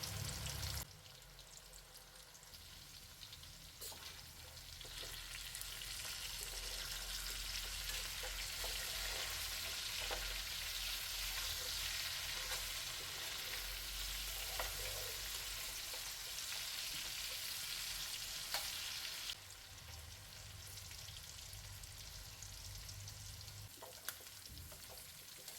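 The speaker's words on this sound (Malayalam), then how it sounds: "മീഡിയം ഫ്ലെയിമിലിട്ട് വറുത്താൽ മതി." Chicken pieces fry in hot coconut oil over a medium flame for a Kerala-style chicken pickle, giving a continuous, fairly quiet sizzle and bubbling with occasional pops that eases slightly near the end, no talking.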